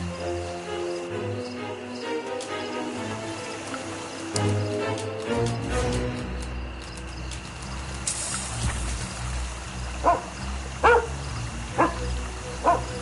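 Toby the dog in a Sherlock Holmes video game, several short sharp barks near the end over a busy ambient backdrop of music and crickets.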